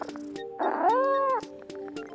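A cat lets out a single drawn-out, plaintive meow at an animal shelter adoption center, heard up close over faint background clatter.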